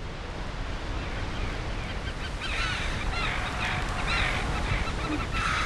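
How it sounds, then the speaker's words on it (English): Arctic terns call as they pass overhead at sea, their harsh cries faint and intermittent above a constant roar of wind and surf. "They're Arctic terns."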